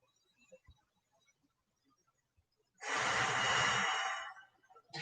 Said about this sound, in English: And then take a full breath.